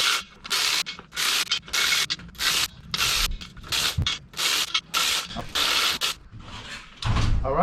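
A hand ratchet loosens 15 millimeter outer crank bolts during a 6.2 engine crank install. It gives close, rasping clicking strokes in repeated bursts of about half a second, separated by short pauses.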